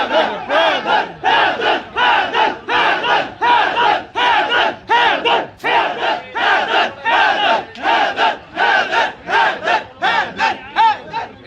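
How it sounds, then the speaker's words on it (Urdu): Crowd at a lawyer's release rally chants a two-beat slogan in unison, loud rhythmic bursts repeating steadily about every half second, with voices rising and falling together throughout. "اس وقت حیدر حیدر کے نعرے لگائے جا رہے ہیں."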